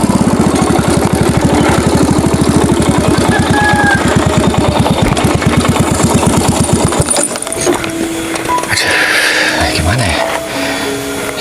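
A motorcycle engine idles with a steady, rapid mechanical pulse for several seconds, then cuts off, leaving quieter background noise and scattered sounds.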